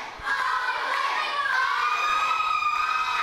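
A wrestling crowd chants in unison at a female wrestler named Sara, a loud, sustained, high-pitched collective shout filling the hall and holding steady throughout.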